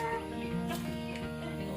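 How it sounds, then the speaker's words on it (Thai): Ordinary farm-kept domestic turkeys, ordinary-colored breeding stock, call with warbling, harmonic gobbles and clucks over a steady background murmur of the flock. "ก็เป็น ไก่งวงทั่วไปนนะครับ"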